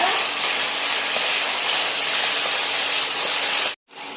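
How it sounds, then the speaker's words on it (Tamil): Chopped tomatoes and onions sautéing in a pan for a Jalebi fish curry give a loud, steady, close sizzling hiss that cuts out briefly near the end. "இப்போ தக்காளி பழத்தை இது கூட சேர்த்துக்கலாம். சேர்த்து நல்லா வதக்கிக்கலாங்க."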